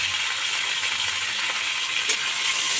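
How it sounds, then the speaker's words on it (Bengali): Spice paste of turmeric, Kashmiri chilli powder and sugar sautés in oil for a Bengali fish curry, a close, continuous hissing sizzle with a brief clatter of stirring near the end. "ভালো করে মশলাটা কষে নেব সামান্য জল দিয়ে দিয়ে মশলাটা করতে হবে"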